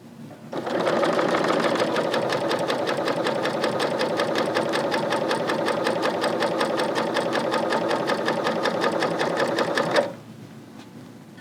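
A Bernina L890 serger stitches fabric in a fast, even mechanical whirr with rapid needle clatter, running steadily for about nine seconds before stopping abruptly into quiet.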